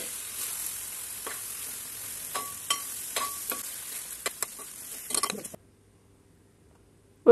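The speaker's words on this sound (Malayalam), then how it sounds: "ഇനി ഇതിലേക്ക് വേവിച്ച കപ്പ കൂടെ ചേർത്ത് എല്ലാം കൂടെ നന്നായിട്ട് ഇളക്കി യോജിപ്പിക്കണം" Cooked tapioca and beef get stirred in a sizzling pan for kappa biriyani, with a soft frying hiss and spoon scrapes and clinks that stop before a short silence.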